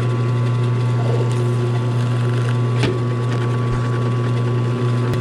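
A drill bores through bison horn for a knife handle, widening a hole from 3/16 to 1/4 inch; a steady, close motor whine and hum run unbroken, with a few faint clicks and bumps.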